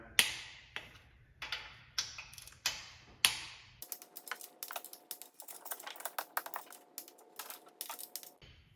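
A small torque wrench tightening cylinder head bolts on a Dodge HEMI engine, a series of sharp ratcheting clicks, slower at first and then quicker bursts, close and clear with no talking.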